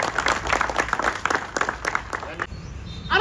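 Audience clapping loudly at a felicitation function for students selected by MPSC and CA, brisk bursts of applause mixed with crowd voices, then briefly dropping away near the end.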